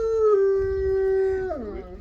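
A wolf at a wolf sanctuary lets out one long, steady howl close by that bends and breaks at the end, with faint background noise beneath.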